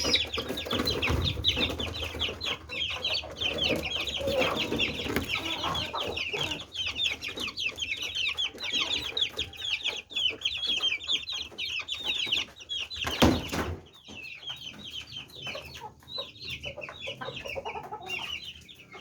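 Pet chickens clucking busily at feeding time, several birds close by with dense, overlapping clucks and calls and a brief loud knock partway through.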